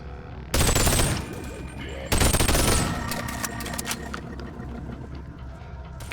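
A yellow two-handed ranged gun in a video game fires two loud rapid bursts, the second longer and trailing off into scattered shots, with a low engine-like hum in the background.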